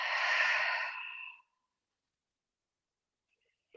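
A single long audible exhale, a soft breathy sigh lasting about a second during a yoga crow pose, followed by silence and a faint brief breath sound at the end.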